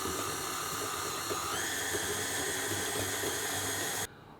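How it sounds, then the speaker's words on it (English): Electric mixer whirring steadily as it creams butter and sugar for Smarties cookies, a continuous loud motor hum with a slight pitch rise partway through, then cutting off abruptly near the end. "turn the machine on and cream the butter and the sugar together"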